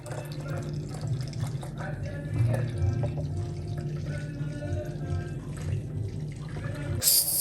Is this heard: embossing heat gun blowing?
no